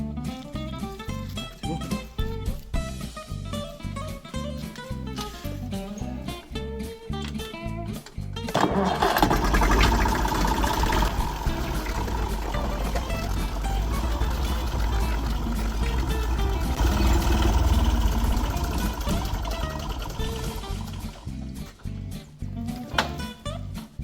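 A tractor engine runs steadily nearby, its rumble swelling louder partway through and holding a loud, throbbing drone until the end.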